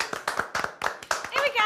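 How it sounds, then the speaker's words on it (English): Dinner guests clap in short bursts of applause at a dinner party, with chatter and voices mixed in throughout. "Applause! That's an appreciative crowd."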